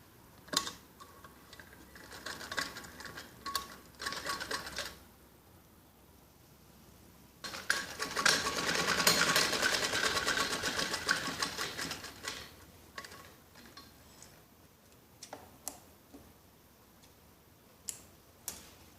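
A sewing machine stitches a seam on a child's skirt with a steady ticking rattle, in short runs and one longer stretch mid-way, fairly quiet with clicks in between.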